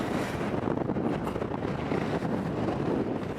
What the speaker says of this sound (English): This wind is getting ridiculous.